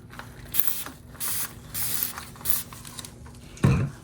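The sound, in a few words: spraying alcohol from a spray bottle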